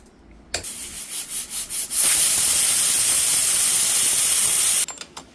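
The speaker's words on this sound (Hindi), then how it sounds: "कुकर से सारा प्रेशर रिलीज हो गया है।" A pressure cooker on the stove vents its steam: a few short hissing puffs, then a loud continuous rushing hiss lasting several seconds before it cuts off abruptly near the cooker.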